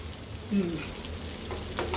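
Chicken liver (kaleji) fries in a pan with a soft sizzle, and a brief scrape of stirring comes about halfway through.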